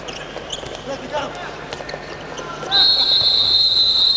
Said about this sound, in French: Et coup de sifflet de l'arbitre pour une nouvelle faute.